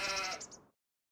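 Sheep bleating in the farming video game Farming Simulator 25, one close, wavering bleat with a few pulses that cuts off abruptly, heard alone.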